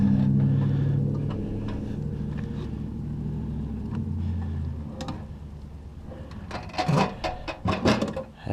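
Drawers of a new motorhome toolbox slide open and shut, giving a series of close clicks, knocks and rattling slides toward the end after a steady low hum.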